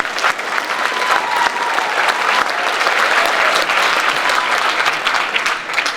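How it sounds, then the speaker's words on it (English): Loud, steady applause from an audience at a school assembly honoring an Army command sergeant major at a technical school, dense clapping sustained throughout without a break. "Yeah, applause is good."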